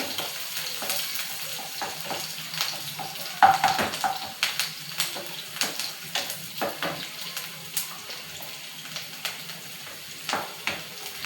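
Chopped onions frying in a pan for egg masala, a continuous soft sizzle broken by a regular series of scraping stirs from a spatula, close and moderately quiet.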